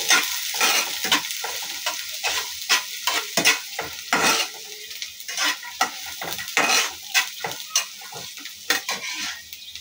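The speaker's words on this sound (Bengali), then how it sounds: "আমি পেঁয়াজটাও এখানে বাদামের সাথে একাত্রে ভেজে নিচ্ছি।" Chopped onions frying with nuts in a pan: a constant soft sizzle broken by frequent, rhythmic scrapes and clinks of a spoon stirring against the pan, close up.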